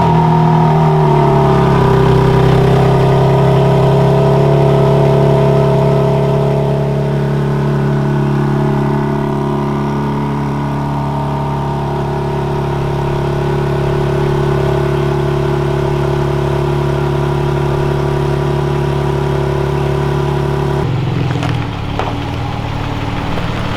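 A BMW B58 engine idles with catless stainless steel downpipes, a loud, steady, deep droning hum with slight pitch shifts, close by, ending in a brief rustle.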